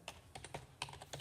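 Quick, light keystrokes on a computer keyboard, about a dozen crisp clicks in a short uneven burst, close and quiet.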